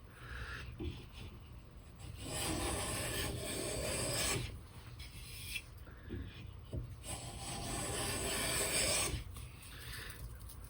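A Veritas chisel plane shaves thin, fine curls from a wooden surface in a few long rasping strokes, close and fairly quiet, with no talk.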